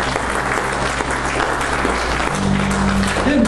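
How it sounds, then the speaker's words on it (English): A church congregation claps for the Lord, dense sustained applause from a crowd filling the room, with a sustained tone from a keyboard or organ rising underneath toward the end. "Give Lord a hand clap."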